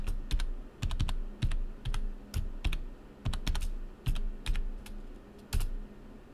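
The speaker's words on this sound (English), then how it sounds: "So we type in the whatever password we created for the user account." A password is typed on a computer keyboard during a Debian Linux login: bursts of close, crisp key clicks in short irregular runs with brief pauses, no voices.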